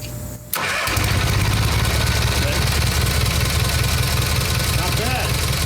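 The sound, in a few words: Kohler Magnum engine idling on Simplicity Sunstar tractor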